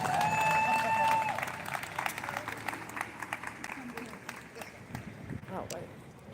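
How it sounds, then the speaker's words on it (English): A crowd at a street rally for rights applauds and cheers, clapping that tapers into scattered claps with voices and outdoor noise mixed in, while a brief whistle or tone sounds near the start. "Let's give them a round of applause."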